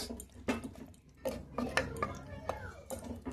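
A lid goes onto a cooking pot of meat curry, with several close metallic clinks and scrapes of pot and utensils in a home kitchen.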